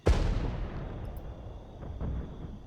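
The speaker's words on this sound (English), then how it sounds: "it appears also long-range artillery is coming in" Long-range artillery fire in the strategy video game Regiments, a single heavy boom that rolls out into a long, fading rumble, with faint distant thuds near the end.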